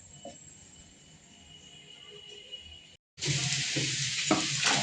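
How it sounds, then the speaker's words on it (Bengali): Boiled lentils (dal) are stirred and mashed in a pot; a quiet stretch is followed by a loud, close, continuous sizzling scrape of stirring with brief knocks against the pot. "ডালটা একটু ঘুটে নিই ঘুটে ডালটা সেদ্ধ"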